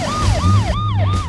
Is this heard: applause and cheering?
no